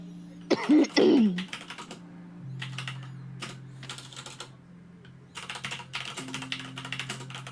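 Fingers tap out bursts of keystrokes on a computer keyboard, irregular clusters of clicks over a steady low hum, with a brief louder throat-clearing noise near the start.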